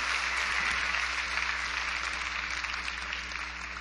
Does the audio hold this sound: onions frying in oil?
no